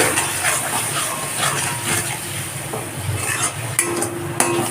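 Ginger-garlic paste with salt, sugar, turmeric, chili and cumin powder being sautéed in a pan, a steady broadband sizzle with stirring scrapes and a few sharp utensil knocks near the end.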